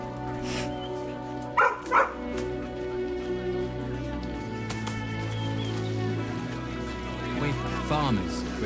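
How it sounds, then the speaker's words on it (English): A dog in the fantasy RPG Baldur's Gate 3 gives a couple of short barks early on, set against a steady rain-like ambience and a low musical bed, with a voice speaking at times. "The dog sniffs your hand and seems more at ease."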